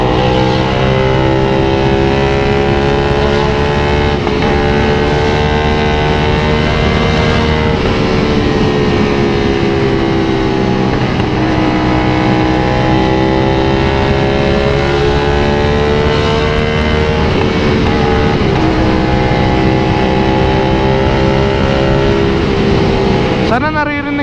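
A 450SR/SS motorcycle with a loud full aftermarket exhaust system drones steadily while riding on the NLEX expressway, its pitch rising and falling through gear changes, close and continuous.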